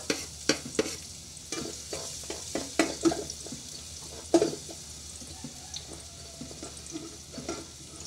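Chopped onions sautéing in a hot wok-style pan, a continuous close sizzle broken by repeated scraping stirs of the spatula against the metal, with no talking.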